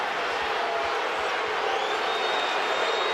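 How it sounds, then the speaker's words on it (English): A sellout arena crowd at a Lakers vs Cavaliers basketball game from the 2008-09 season, a dense, continuous roar of booing and crowd noise filling the whole moment at steady loudness. "the officials hearing the boos from the sellout crowd"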